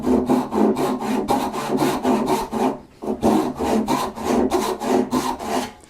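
Hand saw cutting wood for a bridle joint, steady rhythmic rasping strokes back and forth, close and loud, with a brief pause midway before sawing resumes, no talking.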